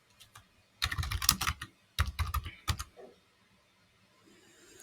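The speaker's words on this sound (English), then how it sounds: "Now let me type in demo auth" Typing on a computer keyboard during a software demo: two short, fast bursts of close, crisp key clicks separated by a pause, followed by a couple of isolated taps and near silence, with no speech.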